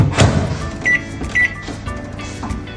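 A microwave oven runs to soften butter, its steady hum carrying two short beeps partway through.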